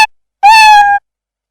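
Cat meow sound effect from the Scratch programming tool: a single clear, loud meow about half a second long, alone after a short click.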